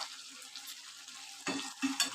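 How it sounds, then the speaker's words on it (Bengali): Mutton curry with tomato is stirred and fried in a pan, giving a soft continuous sizzle broken by a couple of close scraping stirs near the end. "টমেটোটা মাটন কারির সাথে ভালো করে কষিয়ে নেব।"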